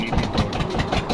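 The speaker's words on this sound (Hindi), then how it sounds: "ये हमारा इंजन स्टार्ट हो गया था और उसने पानी मैस्टा निकाल दिया।" A water pump engine set up on a shore to lift water runs steadily, a loud continuous rumbling drone with a rhythmic mechanical throb and no pauses.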